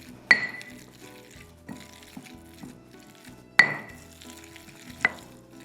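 A spoon stirs red pesto of sun-dried tomatoes in a bowl, giving a few sharp clinks against the side with soft scraping and stirring between them, close and with no talking.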